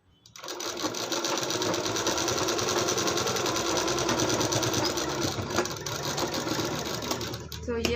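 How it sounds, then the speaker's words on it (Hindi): A sewing machine runs steadily, stitching piping along the edge of a blouse with a fast, continuous rattling whir close by that starts abruptly and stops near the end. "बिल्कुल किनारे करते हुए सिलाई लगा देंगे"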